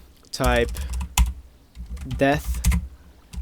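Fast, close clicking of keys on a computer keyboard while a command is typed into Minecraft, two bursts of typing set between stretches of someone talking.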